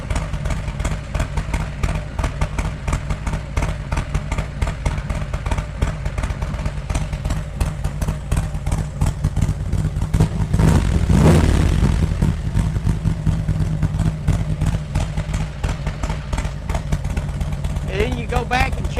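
An engine idles in a shed while warming up after repair work, a steady, close, rattly rumble with rapid regular firing pulses and a brief swell partway through, no speech over it.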